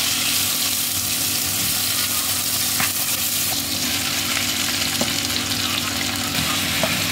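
Garlic frying in a kadai, a loud, dense, close sizzle that runs steadily throughout with a few faint stirring scrapes.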